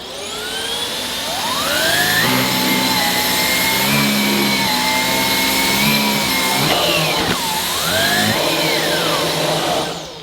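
A vacuum cleaner on its boost setting roars loudly while being pushed across a carpet sample, its motor pitch rising and then wavering up and down as it strains against the pile.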